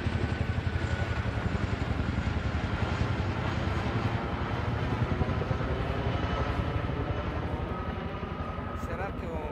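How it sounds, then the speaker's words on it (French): A large army helicopter passes overhead with a loud, continuous rotor thump and engine drone that holds strong throughout, with people talking beneath it. "C'est un gros hélicoptère."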